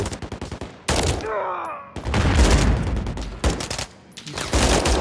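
Turret gunfire in Call of Duty MW3, loud rapid bursts of automatic fire that start and stop in several stretches, with short pauses between them and a voice speaking in one gap.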